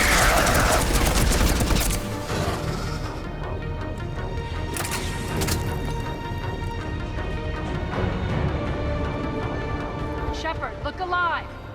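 Gunfire from the video game Mass Effect Legendary Edition: bursts of rapid shots and impacts crackle over game music and effects, with voices speaking throughout.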